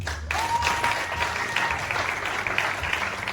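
A seated audience at a certificate of merit ceremony for educators breaks into sustained applause, dense even clapping that starts abruptly and carries on at a steady level to the end.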